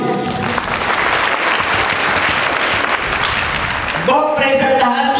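Students and staff at a school assembly applaud loudly, a thick, steady clapping crowd that lasts about four seconds before a voice resumes speaking over the fading claps.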